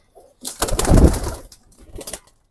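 Pigeons of a military breed coo at close range, a soft low throaty call that swells and then fades, followed by a quieter second coo.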